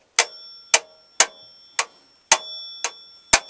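Bell of an old telephone struck in about seven separate bright metallic dings, each ringing briefly before the next, close and clear with no voices.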